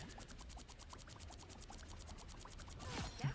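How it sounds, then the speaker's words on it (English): Water sound effect for abilities in a video game: a rapid, regular series of splashy pulses, loud and close, ending in a bubbling gurgle. "It's just the water sounds for abilities."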